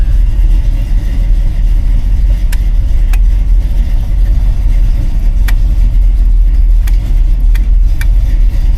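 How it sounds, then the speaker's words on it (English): A 1964 Chevrolet C20 pickup with a 327 V8, just after a cold start, runs at a steady, loud idle with a deep low rumble throughout and a few faint clicks above it. "It's a cold start. She fires right up. That 327 does sound good."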